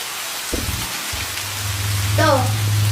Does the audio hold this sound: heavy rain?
yes